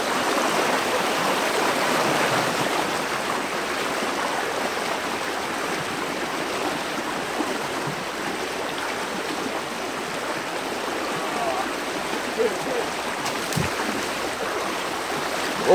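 Water gushes steadily through a broken dam, a dense, continuous rushing roar close by with no letup, with a couple of faint knocks late on.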